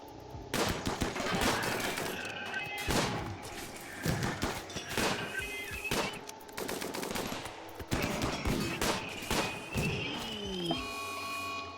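Colonists open fire in the RimWorld video game, rapid cracking gunshots and bursts of automatic fire in clustered volleys, loud and near, with shorter pauses between the exchanges.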